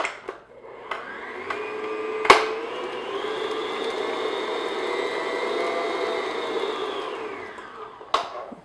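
An electric mixer beats a large egg into lemon blueberry bread batter, giving a steady, close whirring drone for about six seconds, framed by sharp clicks as it starts and stops, with no talking.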